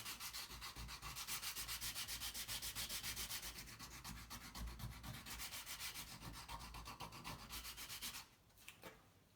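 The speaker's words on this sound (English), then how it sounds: "So I've just got some sandpaper here, essentially just removing around the edge and that just around the curve." Sandpaper rubs back and forth along the edge of a guitar control cavity plate in quick, even strokes, a close, steady scratchy rasp that stops abruptly near the end.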